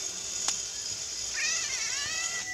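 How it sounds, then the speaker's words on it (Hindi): A cat meows outdoors in Egypt: one drawn-out, wavering meow rising and falling over a steady hiss of background noise, heard at moderate distance with no talking. "ये बिल्ली है शायद"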